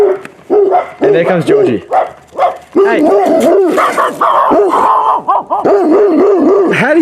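A pet dog barks and yips in short repeated bursts close by, mixed with people talking over it throughout.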